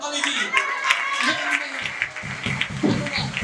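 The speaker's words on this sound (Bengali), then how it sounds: "আসুন যিশুকে একটা জোরে করতালি দিই" A church congregation claps together, a dense wash of hand claps with some sharp individual slaps, while a voice speaks over the clapping throughout.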